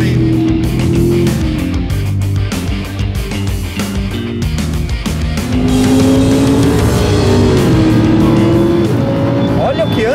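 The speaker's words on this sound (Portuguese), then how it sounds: "que com essa Lambo vai passar gritando bonito e vai chegar aos 250 ali no final" A Lamborghini Huracán engine, apparently from a racing game, screams loudly and continuously with rising and falling gear pitches, revving hard and shifting as it accelerates, with talk over it throughout.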